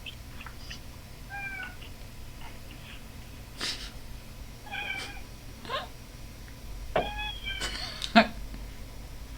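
A cat meows several times in the back of a room during a darts game: short, rising, fairly faint calls scattered over a steady low background hum.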